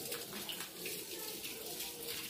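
Water pours in a steady hissing stream while plants are watered at home, moderately close, with a voice faintly mixed in.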